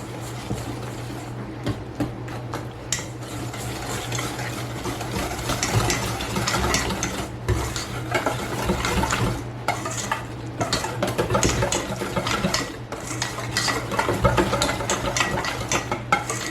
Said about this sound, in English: And now we whisk all of this together.